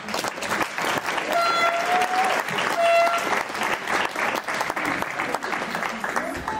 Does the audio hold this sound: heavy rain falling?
no